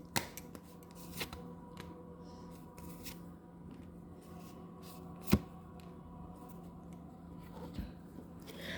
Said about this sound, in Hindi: चलिए थोड़े से कार्ड निकाल लेते हैं।